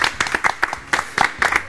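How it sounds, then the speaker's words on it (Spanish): A studio audience applauds guests on a Spanish-language television show, giving irregular, fairly close bursts of clapping from a small group that rise and fall over a couple of seconds. "Un aplauso para nuestros invitados."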